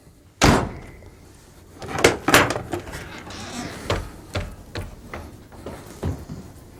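Hinged wooden drop-down door dropping open with a sharp thunk, followed by a series of lighter wooden knocks and clatters as it settles, close and alone.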